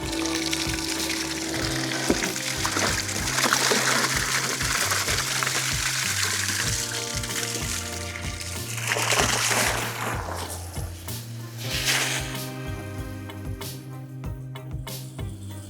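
A 3SDM2.5/25 borehole pump runs submerged in a jacuzzi, churning and gushing water with a steady loud rush and a mechanical hum that surges and eases partway through.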